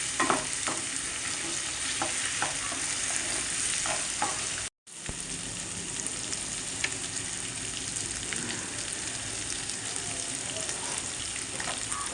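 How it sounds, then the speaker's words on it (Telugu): Ginger garlic paste fries in a pan for a Telugu gongura prawn dish, a dense steady sizzle with occasional stirring clicks, briefly dropping out for a moment midway before resuming. "ఇవి కొంచెం వేగనిద్దాం. అల్లం వెల్లుల్లి పేస్ట్ కొంచెం వేగిన తర్వాత"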